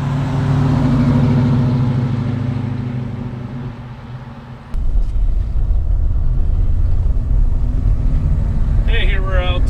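A 1940 Mercury coupe with a fuel-injected Ford 351W V8 drives along, its deep engine rumble loud and steady, dipping briefly before surging again, with someone talking over it.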